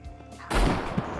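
A sharp gunshot from a shooter video game, one sudden loud crack with a short trailing rumble after a quiet start.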